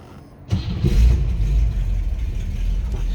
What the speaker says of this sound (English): Let's go ahead and start this up. So you hear it run.